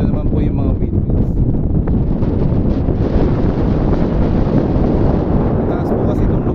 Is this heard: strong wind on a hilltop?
yes